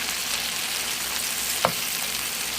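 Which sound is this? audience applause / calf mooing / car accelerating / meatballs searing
meatballs searing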